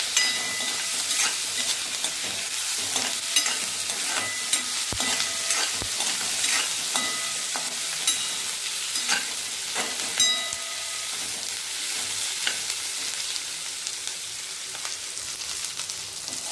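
Onions fried in oil in a pan, a dense, continuous sizzle with frequent scraping and clinking of a spatula stirring throughout, close and fairly loud, without speech.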